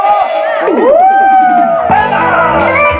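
Guests at a baptism party let out loud, high whooping shouts and yells together, a close, energetic burst of overlapping voices that rises, dips briefly, then surges again.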